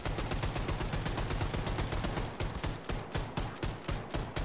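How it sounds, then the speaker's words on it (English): A shotgun turret in Wolfenstein II: The New Colossus fires rapid, evenly spaced blasts, close and loud, roughly nine or ten shots a second in an unbroken string, with a few bursts spreading wider near the end. "It's like a shotgun on a turret."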